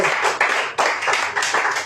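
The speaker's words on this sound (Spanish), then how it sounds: "Dale ese fuerte aplauso al Señor." A church congregation applauding the Lord during a sermon, rhythmic close clapping in regular bursts, loud and unaccompanied by talk.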